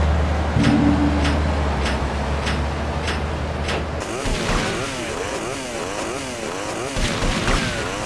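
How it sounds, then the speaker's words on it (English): An audio glitch in GTA The Trilogy The Definitive Edition: a harsh, buzzing mechanical drone like a sputtering broken chainsaw, preceded by a low steady hum with regular clicking ticks, continuing loud and uneven. "you'll be attacked by the unpleasant sounds of a broken garage door or a broken chainsaw"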